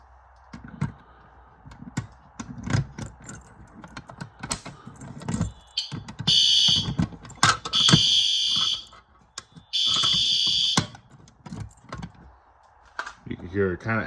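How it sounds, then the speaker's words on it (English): A fire alarm system sounds after a garage pull station is pulled, giving intermittent bursts of a harsh high-pitched tone that start and stop irregularly, mixed with clicks, handling noise and someone talking. "So we're gonna pull this garage pull station real quick."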